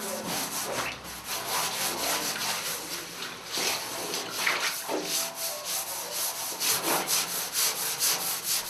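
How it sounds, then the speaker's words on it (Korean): A worker scrubs rust off the inside of a boiler hot-water tank by hand in a high school boiler room, a cramped space; steady abrasive rubbing strokes repeat in an uneven rhythm, close and moderately loud, with no talking. "물탱크의 녹은 직접 들어가 일일이 손으로 닦아줘야 한다."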